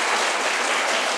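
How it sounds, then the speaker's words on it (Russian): A conference hall audience claps in a dense, steady burst of applause, loud and close, with no voices over it. "Громко не аплодируйте"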